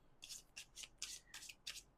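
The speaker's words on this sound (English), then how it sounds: "let me shuffle this quickly" Tarot cards are shuffled by hand close up, a quick series of about seven soft papery riffling bursts in an uneven rhythm, faint and with no talking.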